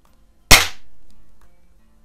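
One sharp crack from a smooth-bore BB gun, either a Daisy No. 101 Model 36 or a Quackenbush No. 4, fired close by and then trailing off in a short decay, with no talking.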